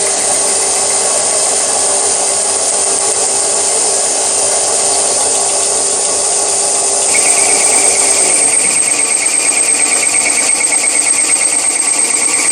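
A milling machine cuts a steel fixture plate with its spindle at roughly 700 to 750 RPM, giving a steady, loud, close whine with a high tonal edge that shifts partway through to a faster chattering buzz, with no talk.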